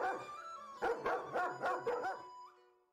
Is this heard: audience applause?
no